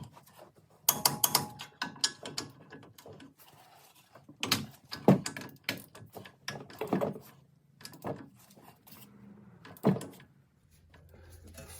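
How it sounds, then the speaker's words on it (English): A torque wrench tightens the wheel bearing mounting bolts on a 2006 Dodge Ram 1500 4x4, with bursts of ratcheting clicks and clanks separated by pauses, close and fairly quiet. "I'm gonna go grab a torque wrench and get those torqued down."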